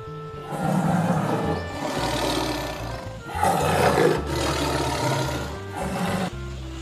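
A tiger roars loudly and up close in a series of long, rumbling, growling bellows that rise and fall over several seconds, with no voices.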